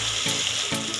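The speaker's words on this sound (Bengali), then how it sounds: "এটা একটু কষাবো তারপর জল দিচ্ছি" Spice masala for Bengali bhola fish curry sautés with a loud, close sizzle, broken by two brisk stirring strokes in the brief moment.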